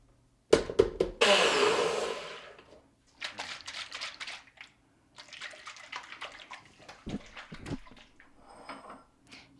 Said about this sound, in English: So I'm going to blend it.